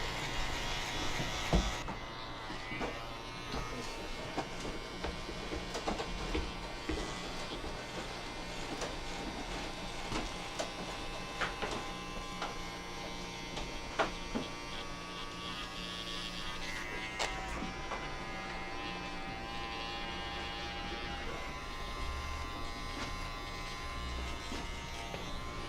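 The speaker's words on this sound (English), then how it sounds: "So that we go in with just the Andis cordless outliner," An Andis cordless outliner trims and cleans up a beard in a barbershop, a steady close electric buzz running the whole time with slight shifts in pitch as it moves over the hair, no voices.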